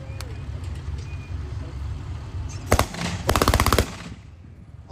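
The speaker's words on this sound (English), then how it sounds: "you can see we have twin machine guns on the back. And you want to see what they sound like, the twin machine guns?" Twin machine guns mounted on the back of a tank at a museum tank show fire two short, loud bursts of rapid shots outdoors, over a steady engine idle.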